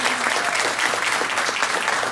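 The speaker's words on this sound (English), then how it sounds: "And I'd like to give Ashley and Emily another round of applause for their great rendition." A crowd at a Girl Scouts event applauds a singing performance steadily, dense clapping filling the whole stretch at an even, moderately loud level with no pauses.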